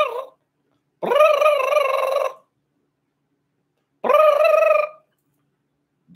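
A voice imitates a turkey gobble, two warbling, wavering calls a few seconds apart, loud and close with silence between them.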